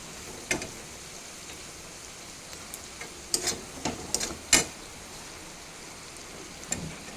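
Spice paste for a bhetki fish curry stirred in hot oil in a pan, with scattered scrapes and soft crackles and a few louder stirring knocks over a faint steady sizzle.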